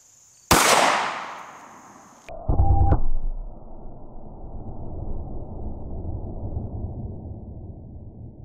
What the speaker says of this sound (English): now let's shoot the 45 and see how it does